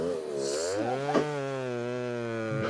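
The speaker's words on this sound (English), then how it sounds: "Why am I cutting it with a saw?" A saw runs steadily at a homestead sawmill while milling logs for siding, a loud close whining drone with a rising pitch at the start and a brief sharp spike midway.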